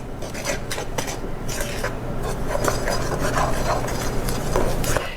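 A spoon scrapes and clinks steadily against a bowl while dry oat bar batter for vegan oatmeal cranberry bars is stirred, a close, continuous gritty mixing sound with rhythmic taps and no talk.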